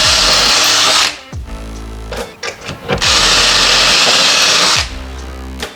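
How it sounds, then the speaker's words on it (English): Power drill boring a hole into a kitchen cabinet, two loud sustained bursts of whirring separated by a brief pause with handling clatter, close and dominant. "you can just hold it with your hand and drill the hole."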